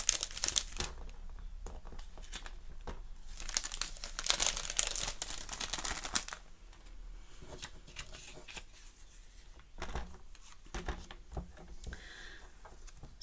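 Cardstock being cut with a paper trimmer during card making, a busy run of crisp crinkling, sliding and slicing rasps that is louder in the first half, then quieter scattered scrapes and taps, with no talking.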